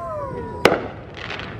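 Fireworks set off privately behind a house on a US Independence Day evening, one sharp close burst followed by fainter crackling, with a person's voice heard before it.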